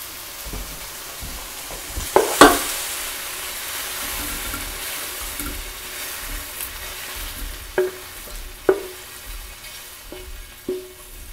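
Browned beef is moved from a hot pan into a crock pot for beef stew, with a soft continuous sizzle under scraping and stirring, sharp metal clinks of a utensil, and a few louder knocks against the pot.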